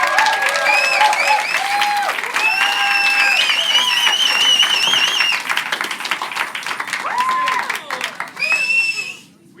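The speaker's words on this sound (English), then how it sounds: "Give a wonderful applause." An evening concert audience applauds as a performer is introduced, with strong, sustained clapping from a sizeable crowd that thins out near the end while a voice talks over it.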